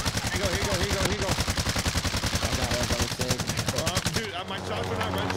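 Sustained, rapid automatic gunfire in Call of Duty Warzone rattles in a fast, steady rhythm, loud and close, with a brief shift near the end as another weapon or engine rumble takes over.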